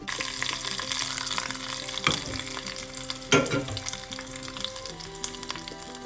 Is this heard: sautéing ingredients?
yes